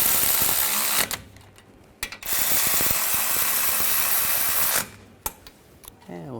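A ratchet clicks steadily while tightening front brake caliper bolts on a 2007-2013 BMW 328i. Two long runs of rapid pawl clicks sit close and loud, with brief pauses between them.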